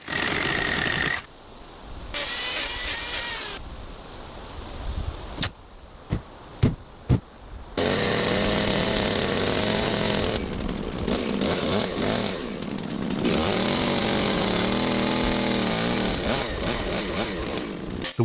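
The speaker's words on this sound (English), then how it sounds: "The sides of the wooden posts are being cut and leveled" A power saw cuts and levels the sides of wooden railing posts for a handbuilt wooden house. Its loud motor buzz starts and stops several times early on, then runs steadily and close, with no talking.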